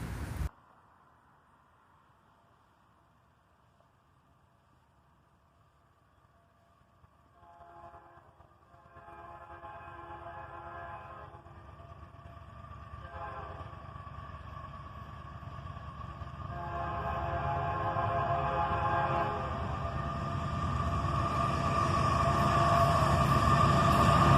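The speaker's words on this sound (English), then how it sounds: "A covered hopper train, led by a Canadian Pacific AC-44CW" A covered hopper freight train led by a Canadian Pacific AC-44CW and a BNSF ES-44DC approaches in the evening, sounding repeated horn blasts while the diesel rumble and wheel noise swell steadily from faint to loud and close.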